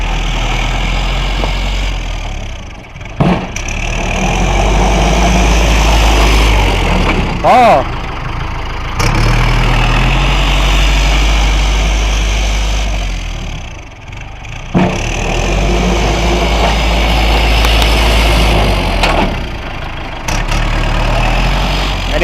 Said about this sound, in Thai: รถไถทีมงานชัยยศในโครซิ่งนะ